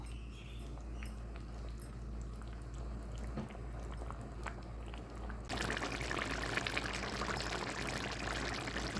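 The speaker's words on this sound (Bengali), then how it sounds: "এখন এখানে আমি ডাল দিয়ে দিব শুদ্ধ করার যে ডালটা হচ্ছে ডালটা দিয়ে দিব" Chickpea lentils (chana dal) are tipped into a pot of chicken curry, with soft shuffling and handling noises and then a louder, fuller rush of sound as the lentils land, with no speech.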